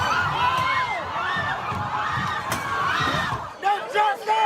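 A protest crowd fills Chicago streets with continuous loud, overlapping shouts and cheers, several voices rising above the roar before a sharper burst of rhythmic chanting near the end.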